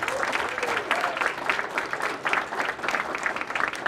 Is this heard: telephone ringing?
no